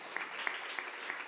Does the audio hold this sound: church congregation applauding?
yes